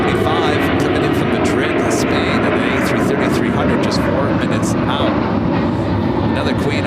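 A jet aircraft roars steadily at Chicago O'Hare airport, a loud, continuous rumble with a broad hiss on top, while a person talks over it.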